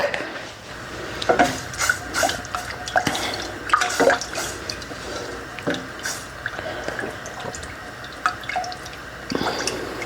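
Heavy cream and milk pour into a pot, with irregular splashes and drips spread across the pour. No one talks.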